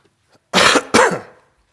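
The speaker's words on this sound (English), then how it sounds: "I'll have to figure out how to mute and then cough, not cough and then turn my head" A person coughs twice in quick succession, loud and close, in an otherwise quiet room.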